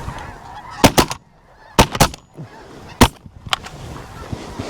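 Geese honk loudly and repeatedly overhead during a goose hunt, a ragged series of harsh calls from several birds close by.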